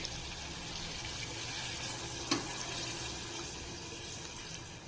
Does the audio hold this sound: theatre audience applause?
no